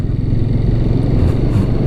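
A 2017 Suzuki TU250X small motorcycle engine hums steadily at a low pitch while riding, with a constant drone and no clear revving.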